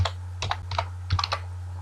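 Typing a command on a computer keyboard at a Windows command prompt, a short run of close, crisp key clicks in uneven clusters over a steady low electrical hum.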